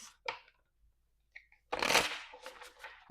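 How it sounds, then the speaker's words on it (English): Tarot cards riffle and shuffle in a few quick bursts, with one long dense flurry of flicking cards near the end, close and crisp. "Okay, one more shuffle"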